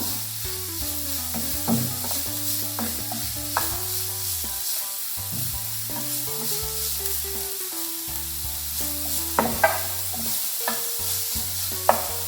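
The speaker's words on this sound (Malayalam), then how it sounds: "നമുക്കിതിലേക്ക് സവാള ഇട്ട് കൊടുക്കാം. അല്പനേരം ഒന്ന് വഴറ്റണം" Onions sizzle steadily in hot oil, close and consistent, for an evening snack. Occasional stirring clicks cut through, while sustained background music tones play throughout.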